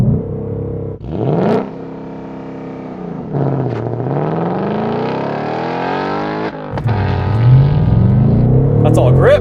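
2021 Ford Mustang Mach 1 with a 5-liter V8 launching hard under launch control, revving up through several gear changes with rising engine pitch, close and loud, with brief talking over it.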